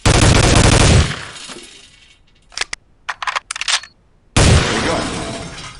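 An M4 rifle in the Soldier of Fortune II video game rattles off a loud burst of automatic fire, then several short clipped shots, and another loud burst.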